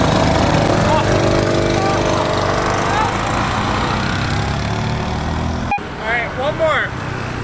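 A Honda Super Cub and a Honda ADV150 scooter accelerating side by side in a drag race, a loud, close, buzzing engine drone that rises and falls, then drops away, with voices near the end.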